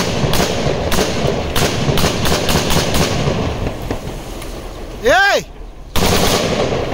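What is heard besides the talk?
Krinkov rifle test firing, single shot and full auto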